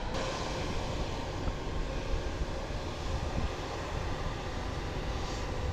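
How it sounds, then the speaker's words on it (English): An Air Canada airliner pushes back at an airport, its engines giving a steady, continuous jet roar that holds broadband and loud for the whole stretch, with no voices over it. "behind Air Canada is now pushing back as well"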